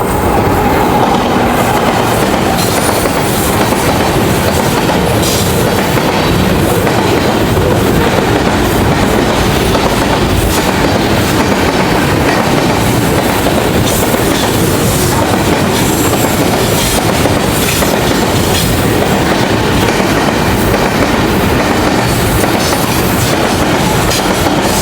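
A container train hauled by GO40 locomotive 9039 passes Jungshahi at speed, a loud, continuous roar of wheels and rail clatter that holds steady for the whole stretch, with no voices.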